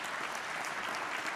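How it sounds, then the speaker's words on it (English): Brief burst of dense audience applause at a sports analytics conference debate, steady and fairly loud throughout with no voices on top. "Could we have a round of applause for Daryl's position?"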